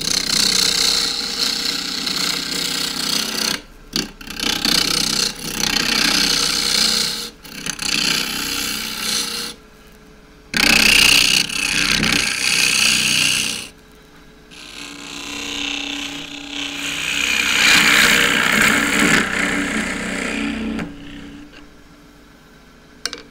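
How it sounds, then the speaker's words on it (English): A wood lathe spins loquat wood while a half-inch spindle gouge with a full left wing cuts it, giving loud rasping, scraping bursts broken by brief pauses as the tool is lifted and set back. "So using a half inch spindle gouge, half inch flute that is, fairly full left wing."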